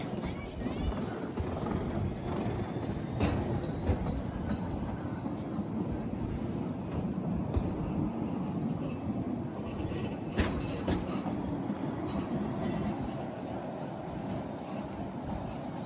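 Steady rumble of a train rolling along rails, with occasional metallic clicks and creaks over a continuous low roar.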